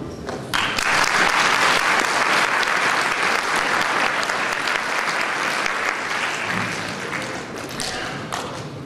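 Audience at a mayor's New Year address applauds loudly and steadily for about eight seconds, a dense, sustained clapping that starts abruptly and tapers slightly near the end, with a few scattered thumps.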